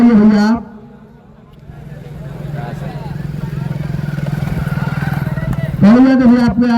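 A motorcycle runs near a night cricket tournament ground, its engine rumbling steadily and growing slightly louder for several seconds between bursts of a loud commentator's voice.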